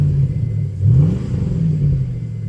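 A truck engine idles with a deep, steady rumble through a cheap upgraded exhaust, with a brief swell in pitch near the middle, continuous and fairly close throughout.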